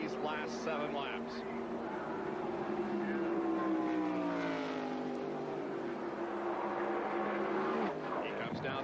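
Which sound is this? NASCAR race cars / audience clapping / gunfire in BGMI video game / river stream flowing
NASCAR race cars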